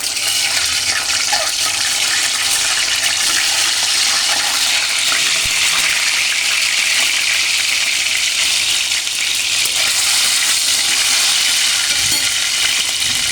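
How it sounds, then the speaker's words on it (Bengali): Eggs frying in white cooking oil, a loud, continuous close-up sizzle and crackle that holds evenly throughout with no talking. "আমি এখন ডিমটা ভেজে নেব।"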